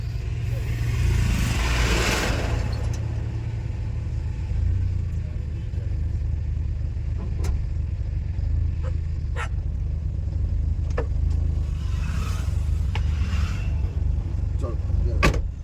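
A manual car's engine runs steadily through a driving lesson, a constant low drone with slight revving swells, a few faint clicks and quiet voices in the background.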